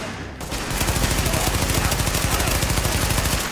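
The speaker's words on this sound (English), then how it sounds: "He's using a pistol and he's tagging me up like that" Rapid enemy pistol fire in The Division crackles close and loud, a dense train of sharp shots packed tightly together that keeps going for about three seconds after a brief quiet start.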